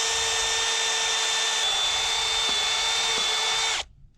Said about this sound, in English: We've got our trusty drill.